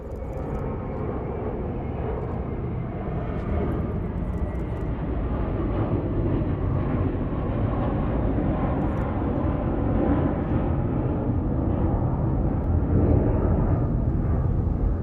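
A Boeing 787-9 Dreamliner jet airliner departing Los Angeles International Airport produces a steady, loud broadband engine roar that holds constant and swells slightly toward the end, with no talk over it.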